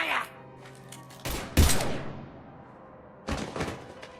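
Gunfire in the Mass Effect 3 video game: a sharp, loud burst of shots near the middle, then a second shorter burst near the end, with a low rumbling background in between.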